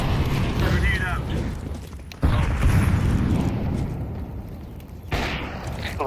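A grenade blast in an online tactical shooter, a heavy broadband boom with a sudden loud onset, followed later by a second sharp burst over a dense, rumbling game soundscape.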